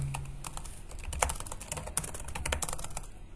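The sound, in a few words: typing a command on a computer keyboard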